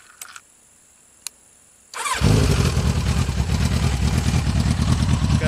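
Kawasaki Concours ZG1000 motorcycle with Delkevic 9-inch stainless mufflers, a couple of faint clicks, then the engine cranks and catches about two seconds in, settling into a loud, deep, steady idle close by.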